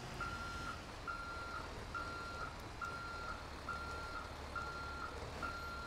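An International LoneStar semi truck backs up to a lowboy trailer in GTA 5, its reversing alarm giving steady, evenly spaced beeps over a low idling engine rumble.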